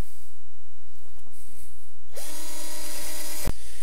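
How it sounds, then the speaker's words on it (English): After a low rumbling background, a power drill with a 1/8 inch bit spins up loudly and whines steadily for over a second drilling a bracket hole before stopping with a sharp click. "I want to drill just 2 holes a little bit higher up to hold the brackets"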